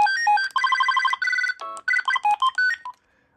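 Electronic ringer melodies from a Motorola L402C cordless phone, a Binatone-made handset, play in quick succession as bright beeping tone sequences with short gaps, then end abruptly.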